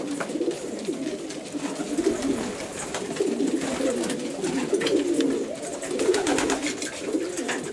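Several blue Sherlickens pigeons coo in a breeding loft, a steady overlapping murmur of low throaty calls with occasional wing flutters and sharp clicks, close by and with no talking.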